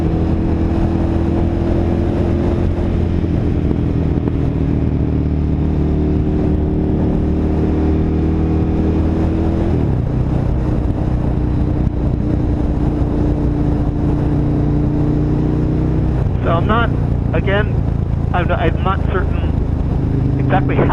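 A motorcycle rider out in high winds at speed, with a steady broadband wind roar and buffeting over a constant engine drone throughout, and a voice briefly audible near the end.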